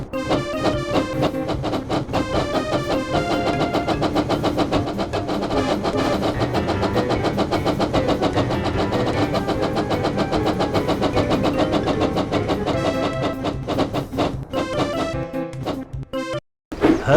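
Percy the engine racing in a Thomas and Friends video game, a steady rapid chugging rhythm with bright game music layered over it, loud and continuous before cutting off abruptly near the end.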